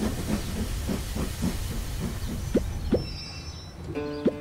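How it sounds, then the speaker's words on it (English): A cartoon toy train pulls into a stop: rhythmic chuffing and clicks give way to sharp whistle-like tones and a breathy steam hiss near the end, fairly close and clear with no talking. "Mr. Train is arriving at stop number one."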